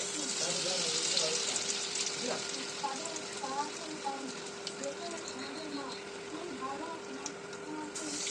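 Stuffed bitter gourd fries in a pan with a steady, dense sizzle and crackle that runs throughout, while a voice talks faintly underneath.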